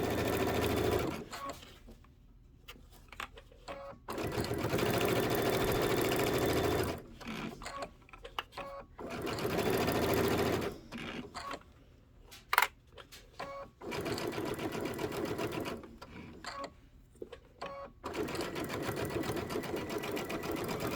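A sewing machine stitches the seam of a quilted table topper in several bursts of steady mechanical whirring, each a few seconds long. Short pauses with small clicks and handling noises separate the runs.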